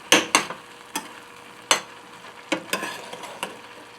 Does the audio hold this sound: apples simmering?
yes